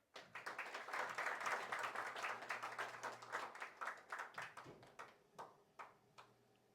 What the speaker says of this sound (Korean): 우리 허성도 이사장님 박수 치고